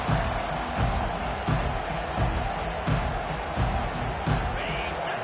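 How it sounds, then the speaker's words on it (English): Steady roar of a stadium crowd cheering in an American football video game, a loud continuous wash of voices with small swells, heard alone after a kickoff. "This crowd, full throat, spreading the eardrums"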